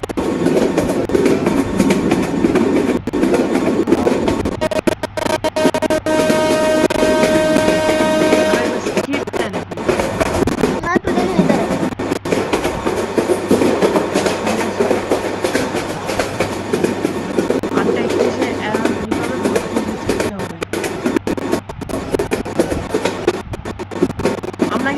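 Simulated Meghna Express train in the game Train Simulator Bangladesh running from Chattogram, heard from inside the cab: a loud continuous rumble with rhythmic clickety-clack of wheels over rail joints and a steady tonal hum throughout.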